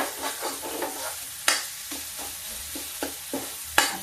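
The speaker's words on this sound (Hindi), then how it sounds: "देखिए मसाला भून जाए।" Masala sizzles in a pan for a Banarasi chana dal and pumpkin dish while a spoon stirs and scrapes. The close scraping strokes come every half second or so over a soft frying hiss.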